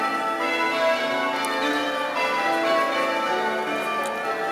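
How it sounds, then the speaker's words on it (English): Church bells ring for an upcoming service from a church beside Kings Parade in Cambridge. The peal of overlapping, sustained tones carries steadily through the whole stretch, with no talking over it. "the church next to me with the bells ringing for the service that's coming up"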